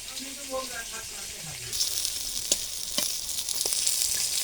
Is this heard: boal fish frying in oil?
yes